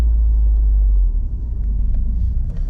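2022 Subaru WRX engine rumbling low and close as the car pulls and accelerates, with a heavy drone that eases slightly partway through alongside road noise.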